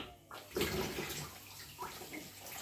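Water runs and splashes while split vegetables are rinsed under it, a fairly close, uneven gush that swells and dips, with nobody speaking.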